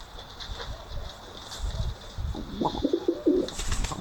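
Pet pigeons or doves coo outdoors on a chilly early spring day, a few soft throaty coos near the end over faint background rumble.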